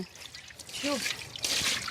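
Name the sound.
pouring water over pipe ice tubes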